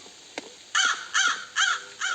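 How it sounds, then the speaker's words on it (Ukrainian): A crow in the Roblox game Doors, The Outdoors, gives four loud, close, harsh caws in a steady rhythm after a brief faint click, with no talking. "Ворона улетіла."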